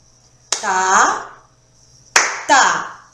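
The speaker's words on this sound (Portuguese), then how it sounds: "Agora vamos bater palmas junto comigo." Hands clap out the syllables of the Portuguese word 'batata' during an elementary-school lesson: one sharp clap, then two quick claps, each landing with a spoken syllable from a nearby voice.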